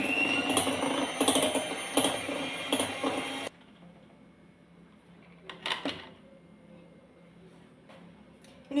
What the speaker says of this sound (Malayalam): ഇനി ഈ പൊടിച്ച് വെച്ചിരിക്കുന്ന പഞ്ചസാര കുറേശ്ശെയായിട്ട് ഇട്ട് ബീറ്റ് ചെയ്തെടുക്കാവേ.